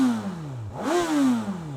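A Honda CB1000R inline-four on its stock exhaust revs sharply once, pitch rising quickly then falling away in a smooth, zingy sweep, close and clear.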